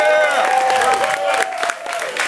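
Comedy club audience clapping and cheering, a dense, loud burst of applause with a voice calling out over it, tapering slightly near the end.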